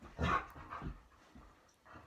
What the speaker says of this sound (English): the dogs are now making a noise